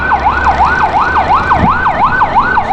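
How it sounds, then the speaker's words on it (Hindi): A fire brigade truck siren wails in steady rising and falling sweeps, about six cycles in under three seconds, loud and close with no voices. "और एक फायर ब्रिगेड बहुत तेज़ी से आ रही है।"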